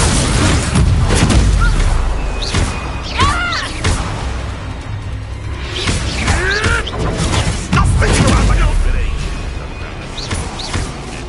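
In a Harry Potter video game, an Expulso spell blasts off with booming, crashing bursts amid spell effects, while voices talk over and between the explosions.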